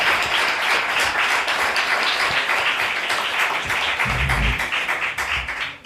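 Lecture audience applause continues as a sustained wash of clapping, with a few heavier low thuds near the end before it begins to thin out.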